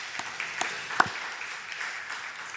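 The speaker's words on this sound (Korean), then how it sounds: "하나님께 감사의 박수를 저 앞에 드리고" A church congregation claps in thanks during a Sunday morning service, a faint, scattered patter of applause with a few sharper individual claps, and no one speaking.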